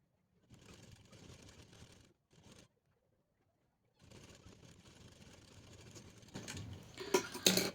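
A sewing machine stitches a turpai patti strip on a blouse in close, steady whirring bursts separated by pauses, growing louder near the end.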